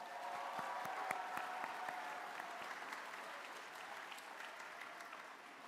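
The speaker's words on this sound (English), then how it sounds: "Let's give them a huge round of applause." Broad, sustained applause from the crowd at a national invention convention awards ceremony, honoring the judges, heard fairly faint and distant and holding steady for the whole stretch.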